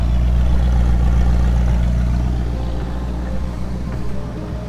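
An Audi R8 GT race car engine rumbles loud and close at a track practice session, with a steady deep drone that eases slightly partway through and no talking.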